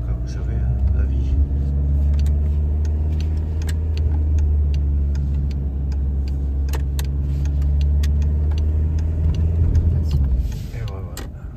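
A car pulling into a disabled parking space, a steady low engine rumble that runs almost the whole time and fades at the end, with someone talking over it.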